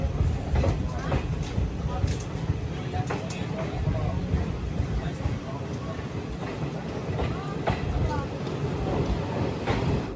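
Kanchanjungha Express sleeper coach rolling near Teliamura station in Tripura, with a steady, close rumble and rattling clatter of the carriage throughout and faint voices in the background.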